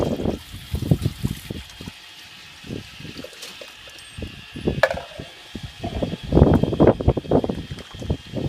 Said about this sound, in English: Big cup of water, pour that in there.